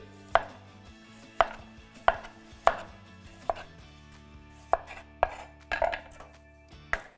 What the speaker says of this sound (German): Weiter schneide ich Knollensellerie.